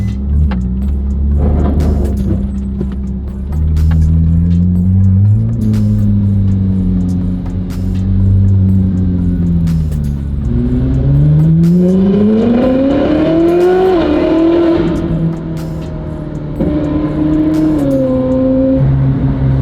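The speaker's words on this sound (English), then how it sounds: "car sounds like it's misfiring also." A Stingray C2 Corvette engine idles and revs unevenly with a misfiring stumble, its low rumble rising and falling in pitch across several throttle changes, loud and close inside the car, with faint clicks and jangles over it.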